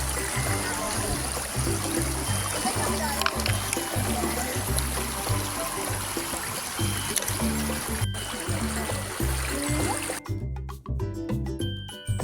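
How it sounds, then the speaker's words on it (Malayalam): The Chaliyar river runs fast and muddy after rain, giving a steady, full rushing wash of water with a low, rhythmic pulsing sound mixed in underneath. "മഴ കൊണ്ട് വെള്ളമൊക്കെ കലങ്ങിയിട്ടുണ്ട്, നല്ല ഒഴുക്കുണ്ട്"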